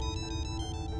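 A mobile phone ringtone plays loud and close, a steady electronic melody that repeats in even pulses for the whole moment, with no voices over it.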